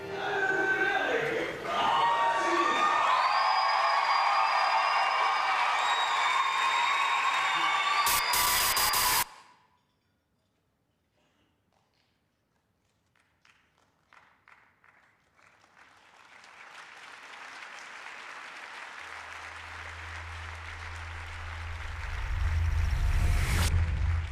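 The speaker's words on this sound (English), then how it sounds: "you are applauding his courage and satire" Audience cheering and applause at an awards ceremony, loud and dense for about nine seconds, then cutting off sharply into near silence before a low rumble and diffuse noise swell back in.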